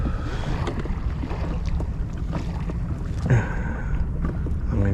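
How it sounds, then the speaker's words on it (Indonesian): Strong wind buffets the microphone while fishing for mullet from a small boat on choppy, wavy water, producing a continuous loud rumbling roar with gusty surges and some splashing. "Anginnya kencang bergelombang"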